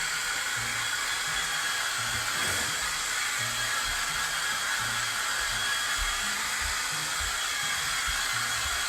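A hair dryer blows on a board to dry it quickly, a steady high whooshing hiss running close and unbroken, with faint low thumps beneath.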